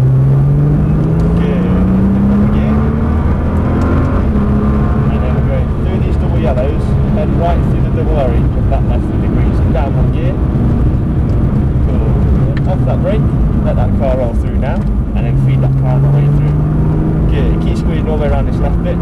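A supercar's engine pulls hard under acceleration on the TopGear test track, its note rising in pitch twice. A driving instructor talks almost continuously over the steady engine and road roar.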